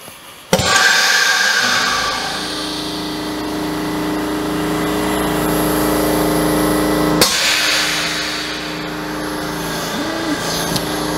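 Morgan Press plastic injection molding machine running through an injection at 80 psi: a sharp mechanical clunk, then a steady, loud pneumatic and motor drone with a brief hiss near the end, no talking.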